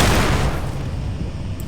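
A grenade explosion in S.T.A.L.K.E.R. lands as a single loud, deep boom that rumbles and fades over under two seconds.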